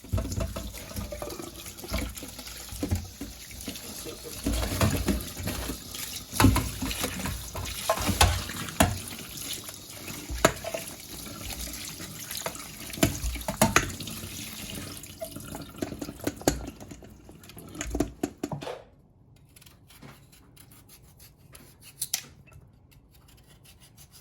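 Tap water runs steadily over pumpkin being washed in a sink, a continuous splashing rush with clatters, fading out near the end.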